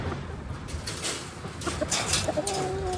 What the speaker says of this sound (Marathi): कोंबड्याला मोकळं सोडून देतो